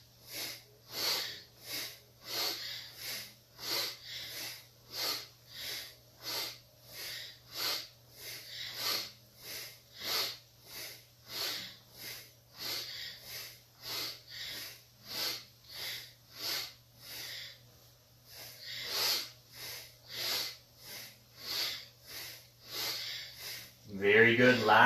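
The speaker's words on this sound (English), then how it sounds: "inhale left, exhale right, and just go for it. But go gently, go consciously." A person practises alternate nostril breathing during a Kundalini yoga meditation, with steady rhythmic sniffing inhales and exhales repeating about once a second, close and clear, under a faint steady hum and with a voice speaking at the end.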